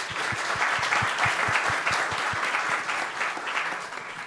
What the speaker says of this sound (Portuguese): E aplausos.